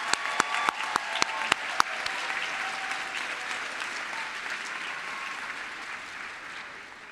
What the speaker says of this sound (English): Please give a big round of applause for our parents and family members that are here tonight.